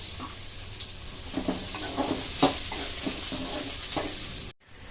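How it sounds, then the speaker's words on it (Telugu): Chopped onions fry in hot oil in a pan for a spinach, garlic-chili and egg curry, giving a steady soft sizzle with a few stirring scrapes and clicks. The sound trails off into a brief silence near the end. "ఇప్పుడైతే మనం ఉల్లిగడ్డలు ఇది ఎర్ర కలర్ వచ్చేసరికి గోల్డెన్ కలర్ వస్తాయి ఫ్రై చేసుకోవాలి"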